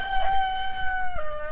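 Chickens at a backyard coop, one bird giving a sustained crowing or squawking call with clear harmonic tone, close and moderately loud over faint rustling.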